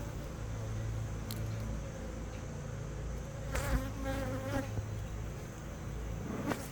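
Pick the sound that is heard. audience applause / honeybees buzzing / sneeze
honeybees buzzing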